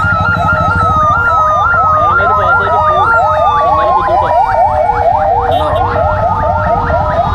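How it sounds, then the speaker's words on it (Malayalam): An ambulance siren wails loud and close in rapid rising-and-falling cycles, stuck on a road jammed by crowds at a village mosque festival fair, with traffic rumbling underneath. "അവിടെ നിന്ന് ഇറങ്ങി ആംബുലൻസ്. കാരണം റോഡ് ബ്ലോക്ക് ആയതുകൊണ്ട് ആംബുലൻസിന് പോകാൻ ബുദ്ധിമുട്ടാണ്."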